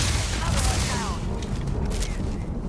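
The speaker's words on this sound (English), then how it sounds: "Quit shooting him, I'm trying to reload." Gunfire from the video game Starfield, a dense burst of shots crowding the opening second, then thinner, scattered reports with a continuous low rumble beneath and a voice talking over it.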